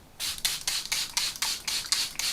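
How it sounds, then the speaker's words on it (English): Rapid series of eight short, hissing spray bursts, evenly spaced and close up, with brief pauses between each spritz. "A bit more of that setting spray."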